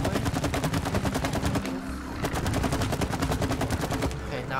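Rapid bursts of gunfire from the co-op video game It Takes Two rattle steadily through the moment, loud and close, with a brief lull in the middle before the shooting resumes.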